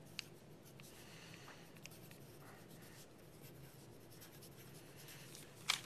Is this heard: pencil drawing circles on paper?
yes